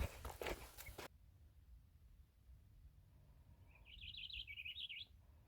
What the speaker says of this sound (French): J'entends le chant magnifique d'un oiseau